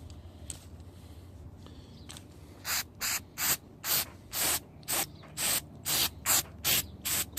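After a quiet start, a spray can hisses cleaner onto a GY6 scooter's open-flow exhaust in about eleven short, evenly spaced bursts, loud and close.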